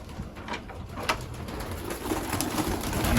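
Racing pigeons, breeding hens and cock birds, coo inside their loft, soft repeated throaty coos over a steady rustling background, close and moderately loud.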